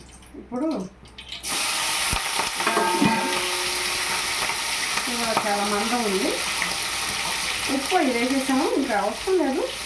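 Pieces of mutton fry in a pan with a steady, loud sizzle that starts after a short quiet opening and continues throughout, with occasional stirring scrapes and a voice talking over it.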